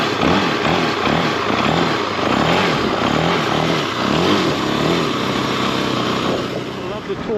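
A kickstart motorcycle engine runs close and loud, a buzzing, pulsing drone with wavering revs that eases slightly toward the end, with voices talking over it.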